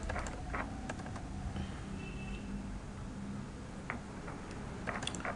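Typing on a computer keyboard, a scattered run of light key taps spread across several seconds over a steady low background hum, with no voices.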